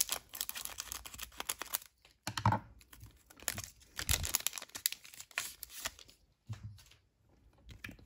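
Panini NBA Select blaster card pack wrapper being torn open and handled, quick bursts of crinkling foil and tearing plastic with short pauses between, close and fairly quiet.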